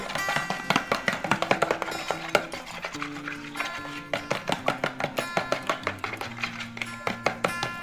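Carp fishing bait mixture being stirred and mashed in a container, with quick, steady rhythmic taps and scrapes repeating close up throughout.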